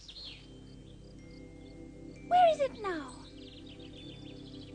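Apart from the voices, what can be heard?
bird song in a cartoon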